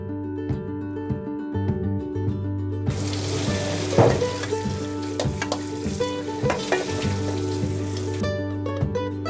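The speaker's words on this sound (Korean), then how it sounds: "이 삶긴 콩을 이제 찬물에 주방에서 헹구도록 하겠습니다" Boiled soybeans are rinsed in cold water in a kitchen sink, with a steady rush of running tap water starting partway through, mixed with clattering and splashing nearby and no talking.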